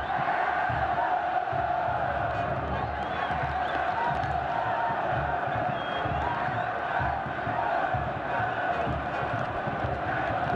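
São Paulo supporters at a 2008 Brazilian championship match against Goiás chanting "é campeão" in a steady, massed roar from the stands, rhythmic voices rising and falling across the whole stretch.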